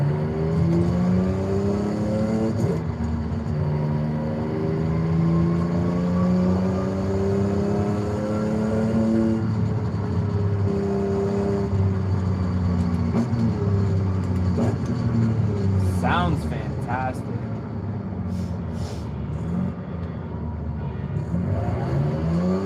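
Race car engine in Forza Horizon revving hard and continuously, a loud rising and falling whine with harmonic gear sweeps and shifts, sustained throughout with no talking.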